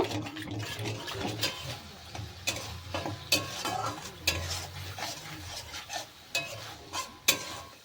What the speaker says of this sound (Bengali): মশলাটা ভাজা হয়ে গেছে মশলা থেকে তেল ছেড়ে দিয়েছে